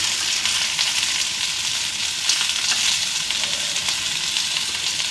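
Okra slices fry on a hot tawa, a loud, dense, continuous sizzle with faint scrapes as the pieces are turned over.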